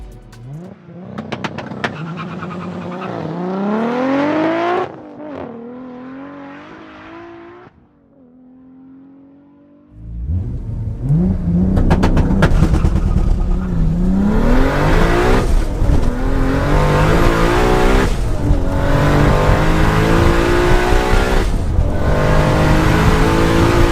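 A Toyota Supra launches on a quarter-mile drag run with rising, revving engine pulls and sharp gear changes, a brief lull, then a louder, sustained flat-out roar close by.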